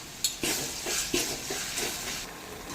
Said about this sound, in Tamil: இப்போ இது கூட பழுத்த 5 தக்காளி ஆட் பண்ணி நல்லா கிளறி விட்டுக்கலாம்